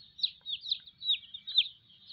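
Chickens from a rainbow-colored flock clucking in a quick series of short, close calls.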